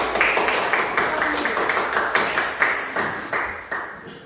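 A class gives a group a round of applause, with regular clapping at about three claps per second running under a lively wash of talk for the whole stretch.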